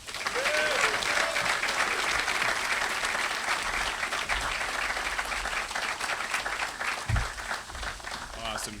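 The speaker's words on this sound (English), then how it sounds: "one more round of applause for UNLV President Keith Whitfield" Sustained applause fills a press conference room for UNLV President Keith Whitfield at the introduction of a new football head coach, steady and fairly close throughout, with a few voices mixed in.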